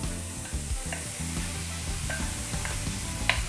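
Thinly sliced roast beef sizzles loudly in a hot pan, a constant crackling fry broken by occasional stirring scrapes and small clicks.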